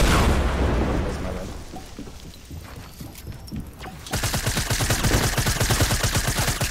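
Gunfire in a solo scrim video game match, with an opening burst of blasts, then scattered shots, and finally a rapid, evenly spaced volley of loud cracks filling the last few seconds.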